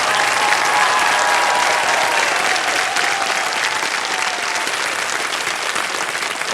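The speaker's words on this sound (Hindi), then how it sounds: "जोरदार तालियां हमारे टॉप 2 चैलेंजर्स के लिए।" Game-show studio audience in KBC Season 16 gives loud, sustained applause for the top two challengers, a dense and steady wash of clapping with faint voices beneath.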